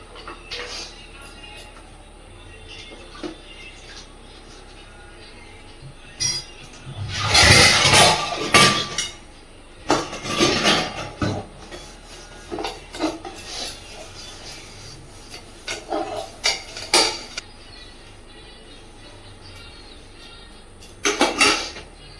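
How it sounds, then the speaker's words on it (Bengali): Dishes and metal tiffin boxes washed by hand in a home kitchen: intermittent scrubbing, rubbing and splashing, with occasional clinks and one loud surge of running water, close by. "আর এদিকে কটা বাসন আছে ধোয়া হয়নি, সেগুলো এখন ধুয়ে নিই।"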